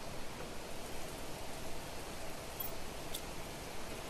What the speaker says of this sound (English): Oh, another rainstorm.